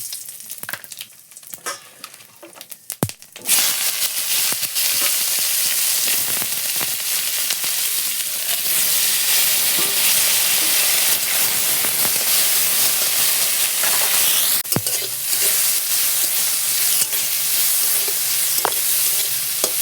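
Bitter gourd frying in a pan in a home vegetarian kitchen: after a few quiet seconds with light clatter, a loud steady sizzle bursts in and continues evenly, with occasional soft knocks of stirring.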